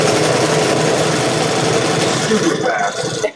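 An old, rattly stitching machine runs through leather in a continuous loud mechanical chatter with a rattling bobbin, stopping near the end, with faint voices underneath.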